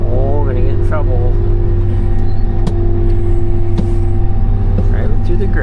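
A Case 8120 combine drives through grass with a steady, loud engine drone and low mechanical rumble throughout. Brief clicks and knocks come through, and someone talks over it.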